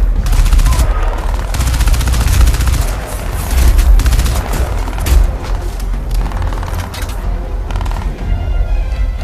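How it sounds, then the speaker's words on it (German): Dense, loud gunfire from the video game Crysis 2, with sustained automatic bursts and booming shots overlapping steadily throughout. "das schaut mir nach relativen Geballere aus"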